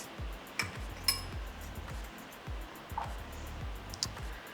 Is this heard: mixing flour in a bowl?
yes